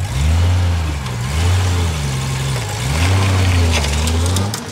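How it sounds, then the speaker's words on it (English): A 1991 Honda GL1500 Goldwing Interstate, a 10th-anniversary model with a 1500cc six-cylinder engine and twin carburetors, runs loud and close with a steady low drone that swells and eases in gentle revs. "This is an Interstate model, 10th anniversary. Listen to this thing, it runs like brand new."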